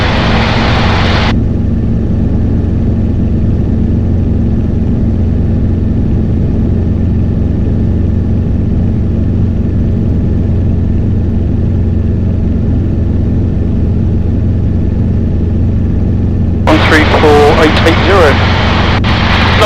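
A constant, droning engine hum with rotor throb fills a Robinson helicopter cabin, loud and unbroken, with brief radio chatter at the start and end.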